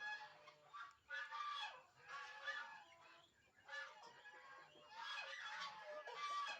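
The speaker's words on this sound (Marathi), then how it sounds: "चांगला कोंबडा आहे" A rooster and other fowl on a poultry farm at a hatchery near Pune give repeated harsh, honking calls in uneven bursts. The calls are fairly close and stand out against a quiet background.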